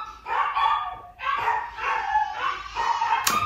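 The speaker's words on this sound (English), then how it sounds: "dogs are going crazy." Several dogs bark in repeated excited bursts close by, loud yips and barks following one another with short gaps, indoors.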